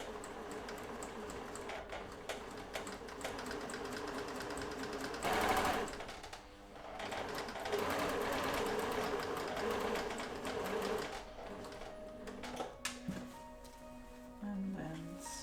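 A sewing machine stitches quilt pieces together in long close runs with a steady rapid chatter, broken by a pause and some handling noises. A person talks quietly in between.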